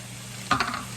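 Ground meat with diced vegetables and taco seasoning sizzles in a skillet, a steady frying hiss broken by a brief scrape and clatter of stirring near the middle, close and fairly loud.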